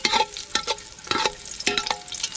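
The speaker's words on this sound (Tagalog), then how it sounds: "Pasensya na po kung maingay yung pangalo ko." Spatula stirring ginger as it fries in oil in a pan, with scraping strokes and bursts of sizzling in an irregular rhythm, close and moderately loud.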